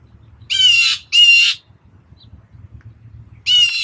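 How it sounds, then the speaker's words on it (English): A crow-like bird in a cemetery gives three loud, harsh squawks: two in quick succession, then a pause before the third. Faint low insect-like buzzing fills the gaps. "Definitely think it's a bird."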